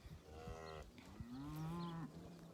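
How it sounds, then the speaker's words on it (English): Cows and calves mooing on a farm, two loud, close moos in succession, the second longer and deeper, with light background rustle. "We have a lot more cows and calves coming up right now."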